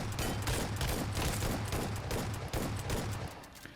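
Rapid bursts of gunfire from BGMI, a ten-shot spray tightly spaced in a continuous rattling stream, loud and close with no talking.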